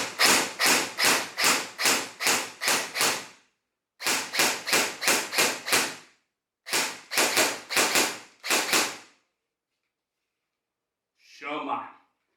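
An ARES M45 airsoft gun, just serviced to cure a feeding fault, fires sharp, loud shots in quick regular strings of about eight, six and five, separated by brief pauses, with a softer sound at the end.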